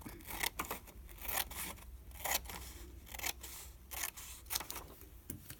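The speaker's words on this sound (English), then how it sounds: "So I am going to trim this one off a little bit." Scissors trimming the edge of a photo torn from a book for a budget journal, producing a faint series of close, quiet snips and paper rustles.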